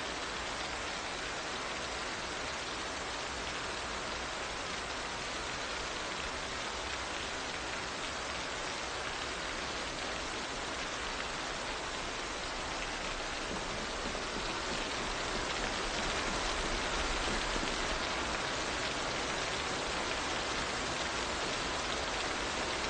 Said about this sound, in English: If it sounds like the rain is getting louder, it's because there's audio problems when there's windows open nearby for some reason